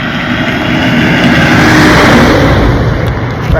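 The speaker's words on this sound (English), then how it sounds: "There's a huge old truck." A large old truck passes on a rural Guatemalan road, a loud, broad engine roar with rushing road noise that swells and stays close throughout, no voices over it.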